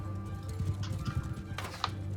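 Horse hooves clopping in the video game Mount and Blade II: Bannerlord, a loose, uneven patter of steps over a steady low hum and faint game ambience.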